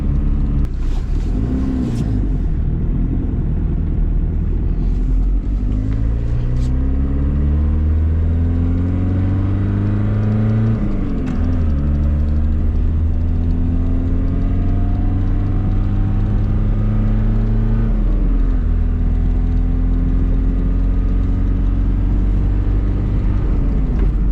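A Fiat 125p diesel engine drones steadily throughout, its low rumble rising and dropping with gear changes, loud and close as if heard from inside the cabin.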